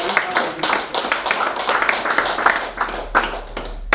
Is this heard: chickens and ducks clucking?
no